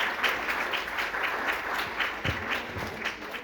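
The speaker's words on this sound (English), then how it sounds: "So let's give them another round of applause" Audience applause at an internship completion ceremony, a steady wash of many hands clapping at moderate level with no talk, holding evenly throughout.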